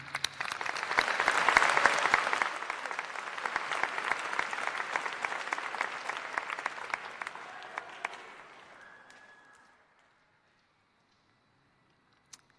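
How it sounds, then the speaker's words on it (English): At a Clark College commencement ceremony, an audience applauds a graduate with full, dense clapping. It swells early, holds steady, then thins and fades to near silence. "Let's give a big clap for Elijah Machida."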